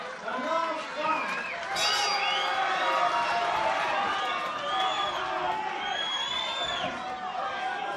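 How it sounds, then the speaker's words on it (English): Partisan local crowd at a boxing match cheering on their fighter, a sustained roar of shouts and whoops from many voices with scattered yelling over a busy arena din. "Partisan local crowd cheering on the own boy, Wayne Bloy."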